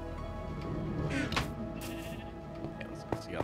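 Sheep bleat in a Minecraft Bedrock Edition survival game, a couple of wavering bleats over a busy game soundscape with steady background sound.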